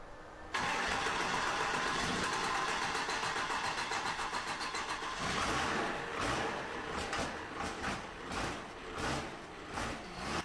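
A Cummins diesel, a 12-valve, swapped into a Mustang cranks and fires, then settles into a loud, rough, lopsided idle with rhythmic pulsing blips of throttle, close and alone.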